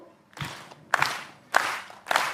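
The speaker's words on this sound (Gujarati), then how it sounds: "તાળીઓ સાથે એક બીટ આપીશું" An audience claps a steady beat at a Gujarati lavari comic show: four sharp, evenly spaced claps about half a second apart, close and clear, with no talking.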